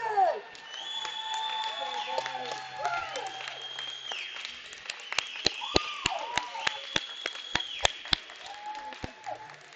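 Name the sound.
crowd cheering after hockey game win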